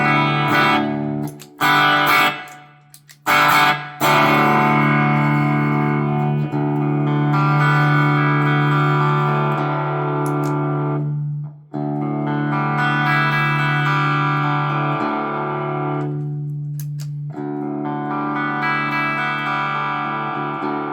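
An Enya Inspire carbon fiber electric guitar played through an effects pedal, sustained chords ringing out with a processed, chorus-like shimmer and a few brief muted strums at the start, no talking.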